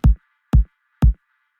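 Three evenly spaced kick drum hits from a self-made sample for a progressive house track, each a loud, deep thump with a short click and quick decay, heard alone with silence between.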